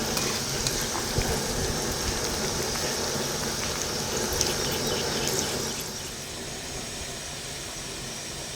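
Okra (bendakaya) fries in a pan with a steady, dense hiss and crackle up close, dropping to a softer sizzle partway through, with no talking.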